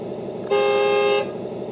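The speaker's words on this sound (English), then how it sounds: "that's the horn. Kind of underwhelming." A vehicle horn from a sound board gives one steady, fairly loud tone lasting under a second, set against a constant background hum.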